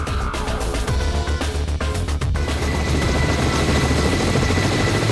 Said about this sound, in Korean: 외줄타기를 하듯 아슬아슬한 가운데 고난이도 비행 능력이 요구되는 헬기의 담수 과정